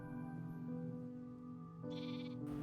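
A Minecraft sheep gives a brief bleat or two over soft in-game background music.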